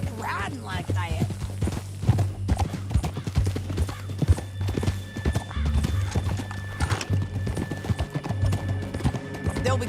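Horse hooves clip-clop at a gallop with whinnies in the Red Dead Redemption 2 game, steady and close, while people talk over the riding.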